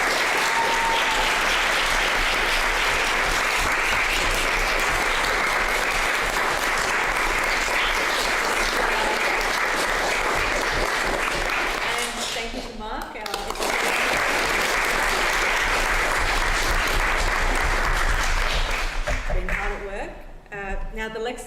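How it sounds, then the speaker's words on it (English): A crowd at a poetry event applauds steadily and loudly, a dense wash of clapping that dips briefly midway, then swells again before fading out. "Please just another round of applause for our"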